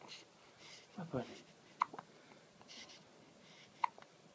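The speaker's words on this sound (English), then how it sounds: "Damn those hiccups." A small child hiccups, with two sharp, quick hiccups about two seconds apart, close and fairly quiet, and soft voices around them.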